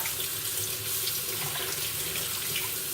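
Running tap water streams steadily into a sink while nuts are rinsed under it, a constant close splashing hiss with no speech.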